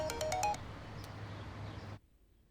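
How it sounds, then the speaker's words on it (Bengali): A phone rings indoors with a bright melodic ringtone burst before fading to a softer continuing tone that cuts off abruptly. "এই ফোন করেছে, ধর ধর"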